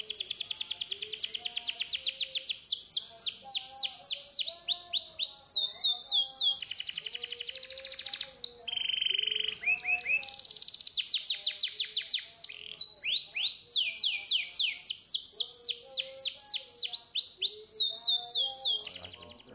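A TESLA canary sings nearby with bright rapid trills and chattering phrases, loud and continuous, sometimes stopping briefly between bursts.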